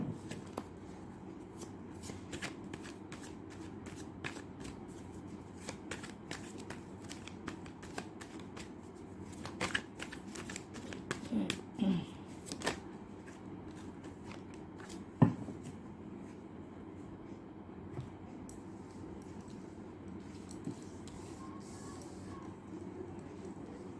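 Tarot cards are shuffled continuously at close range, with a soft, quiet riffling patter broken by occasional sharper clicks and taps.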